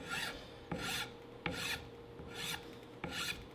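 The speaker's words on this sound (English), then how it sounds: "This stuff files down really nice." Steady rasping strokes of a hand file on a 1954 Chevy steering wheel being restored, five rhythmic back-and-forth passes at close range with no talking.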